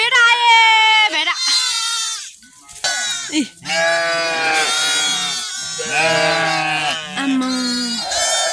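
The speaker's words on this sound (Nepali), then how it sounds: "कति धेरै भेडा बाख्राहरू आउँदैछ" A large flock of sheep and goats in a Nepali village herding setting bleats loudly and nearly without pause, with overlapping high and low calls from many animals close by.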